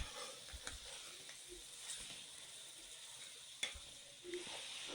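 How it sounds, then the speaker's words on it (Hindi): Chicken pieces frying in oil with ginger garlic paste for a nihari, giving a steady quiet sizzle with faint hiss and a few soft stirring knocks, no voices. "1 किलो चिकन डालेंगे इसमें। अब चिकन को 3 से 4 मिनट तक पकाएंगे।"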